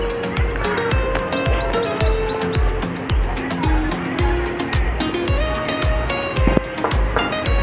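Pigeon chicks chirp in a nest, a steady run of thin, rapid high peeps that goes on throughout, close and fairly loud. Pecking or soft knocking taps in the nest underneath them.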